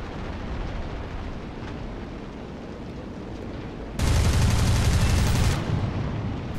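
An aircraft's 20mm cannon fires in a sustained burst of about a second and a half in War Thunder, rising loud over steady engine drone during a dogfight with an I-16.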